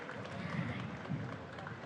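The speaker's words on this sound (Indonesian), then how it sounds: "boleh sekali lagi kita berikan tepuk tangan yang paling meriah untuk peserta kirap budaya pada pagi hari ini" An audience applauds participants of a morning cultural parade, a dense, steady wash of clapping from a crowd that holds an even level through the short stretch, with no voices standing out.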